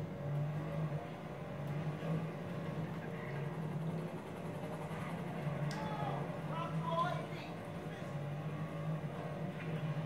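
A car engine in GTA 5 Online hums and whirs steadily at moderate, fairly distant volume, with a low drone running throughout and no sharp revs standing out.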